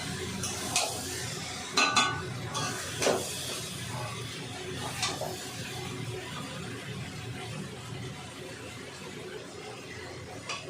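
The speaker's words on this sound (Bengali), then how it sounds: "এবার ভালো করে নাড়াচাড়া করে নেব, যাতে মশলাগুলো আলু আর এঁচড়ের মধ্যে মিশে যায়" A metal spatula scrapes and taps through spiced potatoes and jackfruit in a pan, giving irregular close clinks and scrapes over a soft, low frying hiss.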